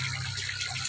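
A large water pump circulates water through a backyard tilapia tank, producing a steady, low hum beneath a continuous rushing gush of flowing water, with no voices.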